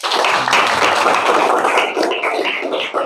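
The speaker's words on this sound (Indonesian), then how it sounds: "Kita beri aplaus untuk Kaila" A classroom of junior high students claps for a classmate, a loud, dense burst of applause from nearby hands that holds steady for a few seconds before thinning out.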